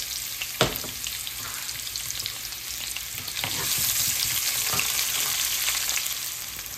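Chopped garlic, cumin and about half a cup of chopped onion fry in oil for a lotus root curry, a steady close sizzle with a sharp tap near the start and scattered stirring scrapes, growing slightly louder midway.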